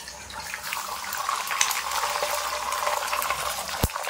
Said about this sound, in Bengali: তেল গরম হয়ে গেছে। এবার এই ডিম গুলিয়ে রেখেছে, ডিমটা দিয়ে দেবো।